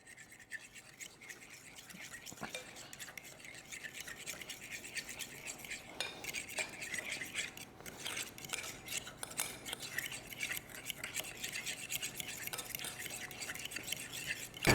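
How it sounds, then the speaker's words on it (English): Almond milk and yogurt whisked together in a bowl, a rapid, continuous wiry clatter of whisk against the sides that grows louder and busier as it goes on. "we're going to do is whisk together our almond milk and yogurt"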